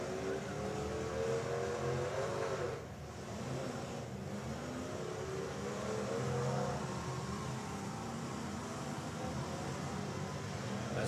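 Demolition derby car engine revving and roaring at an arena event as the driver spins donuts with a steering problem, steady rumble with a brief dip, heard from a distance with faint crowd noise.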